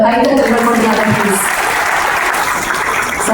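An audience at a Tamil movie pre-release event claps loudly and continuously, dense applause filling the hall throughout.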